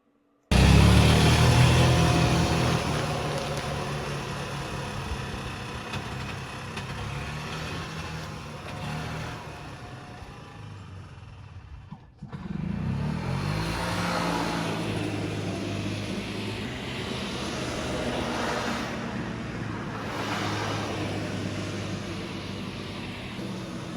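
A Yamaha G1 golf cart engine runs steadily after a carburetor cleaning, loud at first, easing off, then cutting back in and droning on at an even pace.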